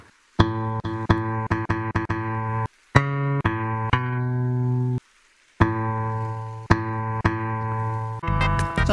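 Electronic guitar tones from the Gorilla Tag VR music update: plucked notes and short strummed chords with a clean, tuned timbre, played in quick runs with brief silent gaps, loud and alone.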